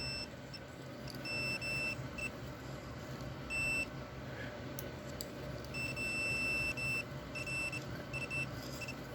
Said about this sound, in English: So you'll hear a beep tone when we have connectivity